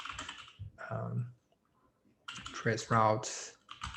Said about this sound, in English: So I'm typing in Amazon.friends here